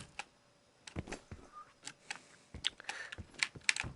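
Keys clacking on a computer keyboard, irregular quiet taps and clicks in short clusters, close up and faint with no talk.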